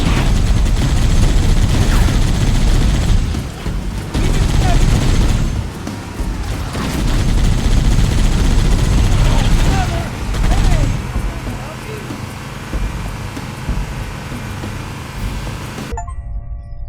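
A firefight against the Covenant in Halo: Combat Evolved, with rapid weapon fire, booms and metallic clangs arriving in dense waves, easing into quieter scattered shots near the end, while voices call out over the battle.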